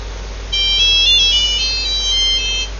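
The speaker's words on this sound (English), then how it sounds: "That's what happens when my phone rings on my watch." Smartwatch ringing for an incoming phone call, a clear electronic ringtone melody of rising and falling tones playing steadily for about two seconds over a low constant hum.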